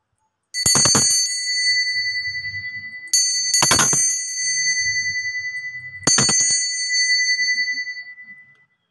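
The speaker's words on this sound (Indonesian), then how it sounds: "Di sini kita akan memulai dengan ditandai lonceng berbunyi." Three loud bell strikes, about three seconds apart, open a tarot reading, each bright ring decaying slowly, with no talk over them.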